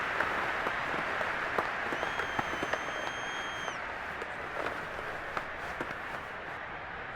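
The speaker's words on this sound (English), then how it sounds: "How about some applause for the defense there?" Steady wash of crowd applause and cheering from a large stadium audience in a Madden football video game, continuous and even, with a brief whistle tone partway through.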